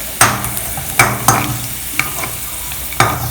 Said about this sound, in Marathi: लसूण गुलाबी रंगावर भाजून घेऊया